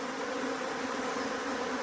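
Honey bees buzz steadily at a nectar source, a dense continuous hum of many insects close by with no pauses, filling the whole moment without voices.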